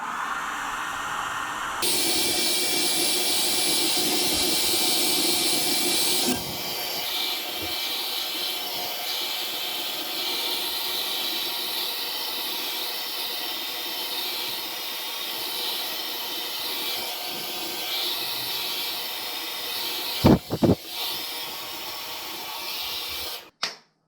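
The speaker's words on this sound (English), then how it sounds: "we are done with the blow drying" A hair dryer blows steadily with a loud, constant whooshing hiss, cuts to a slightly lower setting, then clicks and clatters as it is switched off near the end.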